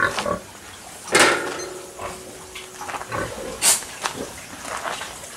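Pigs on a farm give short grunts and snorts in scattered bursts at moderate distance, set over a steady background hiss.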